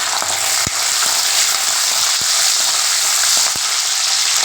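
Lentils fry in a pan for mint rice, a steady bright sizzling hiss throughout with occasional sharp pops and light ticks, close and loud, no voices.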